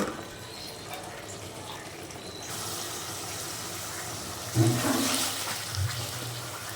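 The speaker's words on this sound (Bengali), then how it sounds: "এখানে আমি ঝোল দিয়ে দিব রান্নার জন্য" Broth is poured into a pan of tilapia fish curry cooking with potatoes and beans, heard as a short splashing gush of liquid partway through, set over a low, steady kitchen background with no talking.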